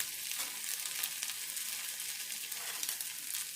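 Food frying in a pan after being flipped to its second side, giving a steady, close sizzle with faint crackles and no voices.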